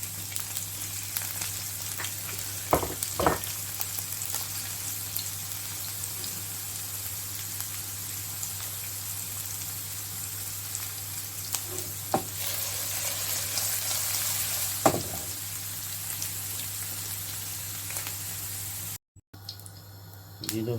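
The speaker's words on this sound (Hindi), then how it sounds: "इनको हम फ्राई करते हैं" Potatoes fry in hot oil in a pan, a low, steady sizzle running throughout with a few sharp pops and crackles, then a brief drop-out near the end.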